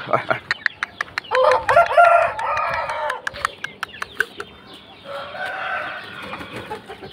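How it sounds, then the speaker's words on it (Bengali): Lakha Aseel rooster, a tall ten-month-old bird, crowing loudly and close in two long drawn-out calls, with sharp clicks and knocks between them. "লাখা মোরগ"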